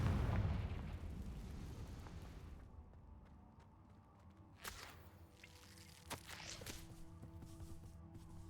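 The Confringo blasting spell goes off in Hogwarts Legacy, opening with a loud rumbling blast that fades into a tail of debris. Sharper cracks and pops follow, moderately close, with no talk over them.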